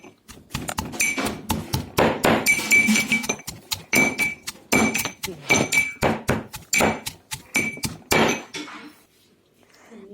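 Boiled pigeon peas are mashed for chutney in a kitchen, making repeated hard thuds with some metallic clinks in an uneven, fairly loud rhythm before trailing off at the end.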